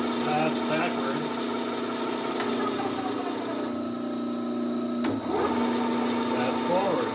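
A Bridgeport milling machine motor runs in reverse with a loose belt, a steady mid-pitched hum with a faint whine, close and continuous, briefly interrupted by a click near the end.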